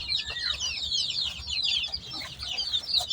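Many hens cluck and chatter continuously in a poultry farm shed where large chickens are kept, a busy layered chorus of close bird calls over a low steady background hum.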